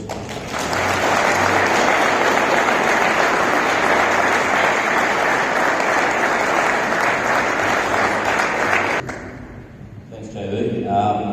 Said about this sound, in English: So if we can have a huge round of applause.